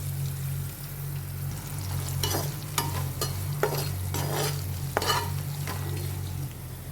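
Chopped chili and onion go into a pan of potatoes with a steady sizzle, while a spoon scrapes and stirs in several sharp, close clicks.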